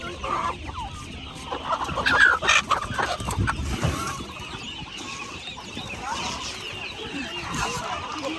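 Chickens cluck amid the busy, noisy atmosphere of Privoz market in Odesa, with people talking in the background throughout.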